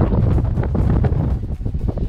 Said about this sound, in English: It's really windy though, huh?